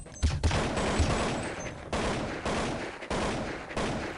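Rapid bursts of rifle fire echo across de_nuke in a Counter-Strike match, sustained spamming with several sharp volleys and brief gaps, loud and dense throughout, no voices.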